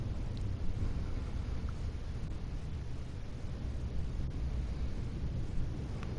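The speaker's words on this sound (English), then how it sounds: "Thunder rumbles in the distance." Thunder rumbles far off in the Death Mark horror game, a low, continuous, muffled roll beneath windy noise, with no voices.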